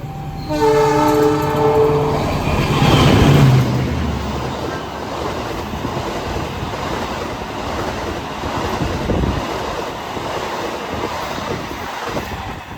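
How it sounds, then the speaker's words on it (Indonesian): A passing train, apparently the Parahyangan, overtakes a stopped train at Kedung Gede station on Indonesian rails, opening with a long loud two-tone horn blast, then a sustained roar and wheel clatter as the coaches rush past. "Baru aja disusul sama kereta, nggak tahu tuh, kayaknya kereta Parahyangan ya teman-teman ya"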